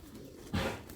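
A red-eyed Jalali pigeon with red legs gives a single short, low coo midway through a moment of quiet, close and soft.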